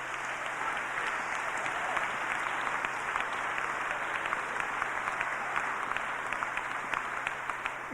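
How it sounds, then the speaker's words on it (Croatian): An audience at a motivational talk applauds warmly, a dense and even wash of clapping that holds steady and fairly loud for the whole stretch, with no one speaking over it. "Give yourself a round of applause."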